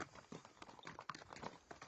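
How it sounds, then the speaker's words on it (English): Horse hooves clip-clop in a quick, irregular rhythm of hollow knocks, faint and steady for a couple of seconds with no voices. "Cassian spurred his horse on and hurried towards the town"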